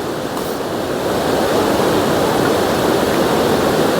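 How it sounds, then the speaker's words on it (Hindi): Rushing mountain water near Rambara on the Kedarnath trail, a loud, steady broadband roar of fast-flowing torrent that fills the whole stretch, close and continuous with no talk. "ख़तरनाक तरीके से पानी चलने लग रहा है, ये देखो"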